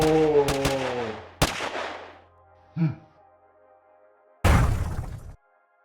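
Gunfire volley from a disaster-world game: sharp broadband shots and crashes in bursts, a few loud reports early, a brief faint burst midway, then a final heavy blast, with some tonal hum underneath.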